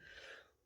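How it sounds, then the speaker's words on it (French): A single short sneeze from one person, a breathy burst that fades quickly, with no talk in the moment. "pardon, j'ai éternué."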